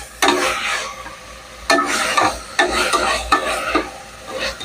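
Mint and coriander being stirred and sautéed in a hot pan: bursts of scraping stir strokes over a steady close sizzle, repeating every second or so with no talk.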